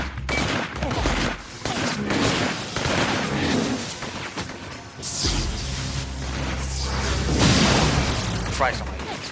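Dense video game gunfire with booming explosions, loud and continuous throughout, mixed under excited speech.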